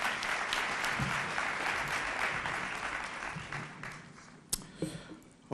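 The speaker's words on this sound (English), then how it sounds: "All right, big round of applause." A conference audience at the 2018 National Family & Community Engagement Conference gives a big round of applause that slowly thins out, leaving a few scattered claps and taps at the end.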